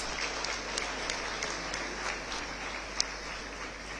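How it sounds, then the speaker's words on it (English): An audience claps at an annual charity event in a convention hall, a dense, sustained round of applause with a few sharper individual claps standing out and no speech on top. "Let's give Varshini another big round of applause."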